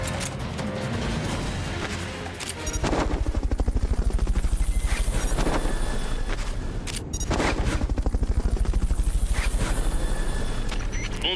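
Helicopter in the video game Metal Gear Solid Peace Walker, a steady loud rotor drone running throughout, mixed with dense bursts of gunfire and sharp crashes in game action.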